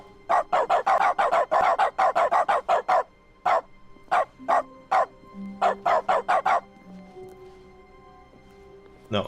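A dog barks in the video game The Stanley Parable, first in a fast, loud burst of repeated barks, then in sparser single barks with pauses. A soft, faint sound sits underneath the barking, with no talking.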